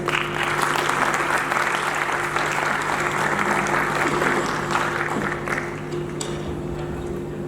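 Loud audience applause fills a hall at a celebration event, dense and sustained throughout before easing slightly near the end, with a steady electrical hum beneath.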